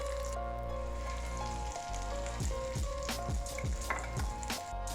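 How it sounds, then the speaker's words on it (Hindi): Potato tikkis sizzle in hot oil for a street-food aloo tikki snack, a steady close frying hiss with scattered crackles and pops throughout. "आलू की टिक्कियाँ हमारी अच्छी तरह फ्राई हो गई"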